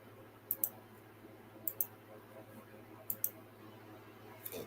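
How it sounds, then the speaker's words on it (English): A computer mouse gives faint, crisp double-clicks in three quick pairs and then one last single click, spaced across a quiet indoor room with a low background hum. "You guys can hear my mouse clicking too."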